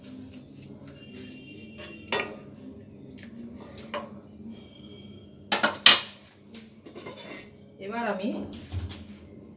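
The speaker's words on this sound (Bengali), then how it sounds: "ঢাকনাটা দিয়ে দিয়ে হাই ফ্লেম করে দিলাম" Metal clinks and a clattering knock as a lid is set onto a pot of vegetable soup, close and fairly loud, with someone talking briefly and other soft kitchen handling noises around it.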